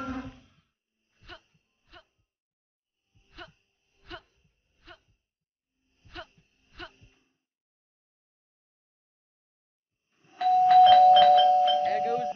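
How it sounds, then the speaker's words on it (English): A doorbell rings once near the end, a loud sustained chime after a stretch of near silence broken by a few short breathy sounds. "There goes that stupid bell again."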